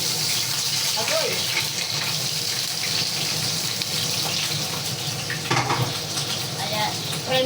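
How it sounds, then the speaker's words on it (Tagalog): Shrimp frying in an oily pan, a steady loud sizzle with crackling spatter throughout, close up, with faint speech-like sounds mixed in. "Siyempre ipapry ko muna yung hipon para maluto siya. At ito ay tumatalsik dahil mamantika."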